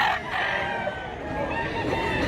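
A big rooster crows in a long sustained call at a provincial poultry yard, steady and fairly loud against a constant background of other birds.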